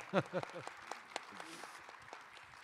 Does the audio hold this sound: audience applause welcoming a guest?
yes